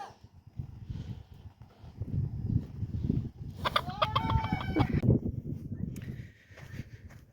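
A small Cochin rooster gives a clear, close crow in the middle, surrounded by clucking and low farmyard rustling, with no talk.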